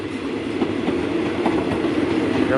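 A long freight or passenger train hauled by two locomotives rolls past near Bang Sue in Bangkok, a steady close rumble with rhythmic wheel clatter over the rails throughout, no voices.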